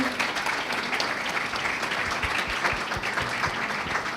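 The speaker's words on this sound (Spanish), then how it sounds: "merece un aplauso de todo el público" Steady, full applause from a panel audience discussing Latin American art in Buenos Aires, many hands clapping evenly throughout without a break.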